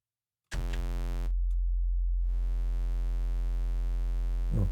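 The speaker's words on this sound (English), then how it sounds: "So we're going to start with the sine wave, perhaps bring in a bit of a square wave" A synthesizer in Ableton plays a sine-based tone. It switches on abruptly and holds a steady, buzzy, harmonic-rich drone for several seconds, with a brief dip early on and a small click near the end.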